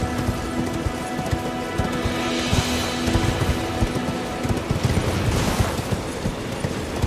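A horse galloping in the video game Elden Ring, its hooves drumming in a quick, continuous clip-clop rhythm at close range over a constant background wash.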